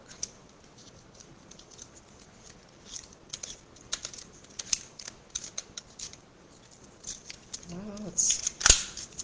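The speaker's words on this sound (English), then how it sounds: "that's the problem with these cheap tape runners" A cheap tape runner is worked across paper, giving sparse, faint dry clicks and scratchy ticks with quiet gaps between them. A louder burst of rustling and clicking comes near the end.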